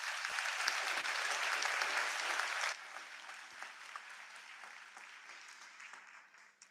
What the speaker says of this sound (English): I invite you to join me in giving them a round of heartfelt applause